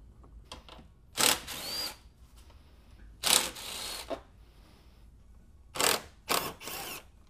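A power tool backs out 8 mm and Torx T25 screws from the front bumper of a 2002-06 MINI Cooper in three sets of short whirring bursts, close by, with quiet pauses between.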